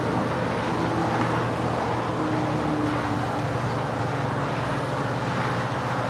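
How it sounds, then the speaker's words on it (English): A United Boeing 787-9 Dreamliner departs LAX for Narita, heard as a steady broadband jet engine roar with a low rumble, sustained and fairly loud, with no voices over it. "And that is United 32 off to Narita, 787-9."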